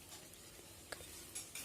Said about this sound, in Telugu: ఇప్పుడు కరివేపాకు పచ్చిమిర్చిని కూడా కలపండి.